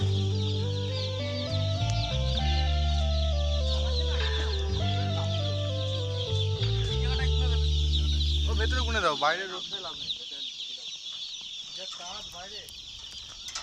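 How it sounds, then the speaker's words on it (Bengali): Baby chicks in crates inside a delivery vehicle peep in a busy chorus of high, rapid chirps, emerging clearly once background music fades partway through. "সরাসরি মুরগির বাচ্চা আমাদের গাড়ি ঢুকে গেছে"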